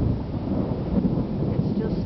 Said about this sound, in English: Major thunder and lightning storm.